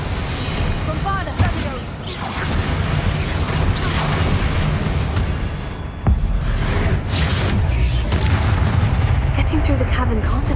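Deep booming blasts from the Bombarda explosion spell in the game Hogwarts Legacy, loud and repeated over a dense, continuous bed of game action, with a sharp hit about midway.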